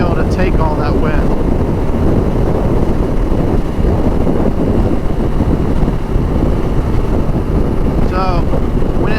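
Loud, constant wind roar buffets the microphone while riding a 2019 BMW R nineT motorcycle, a dense rumbling rush that stays steady throughout.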